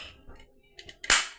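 A single sharp toy cap gun pop rings out near the end, loud and crisp against a quiet room with faint voices and small handling sounds before it.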